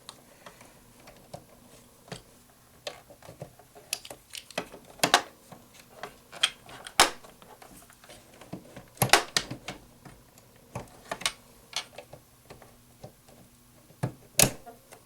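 An F presser foot snapping onto a Janome 8077 sewing machine gives sharp, scattered clicks and small plastic taps, close and fairly loud against a quiet room with no talk.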